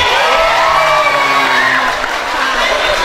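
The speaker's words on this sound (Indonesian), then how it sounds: "Tepuk tangan yang gemuruh." A crowd of high school students erupts in loud, sustained cheering and shouting at a motivational school roadshow, the roar continuous and close for the whole stretch.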